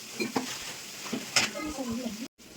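Chapati dough is kneaded by hand with salt and oil in a home kitchen, making soft squelching, slapping and stirring sounds in irregular bursts. The sounds are close and moderately loud and stop briefly near the end.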